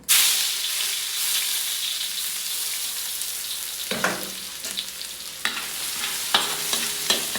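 Garlic sizzling in hot oil in a pan for fried rice, a loud, steady close-up fry hiss with scraping stirs and light utensil clinks toward the end, no talking.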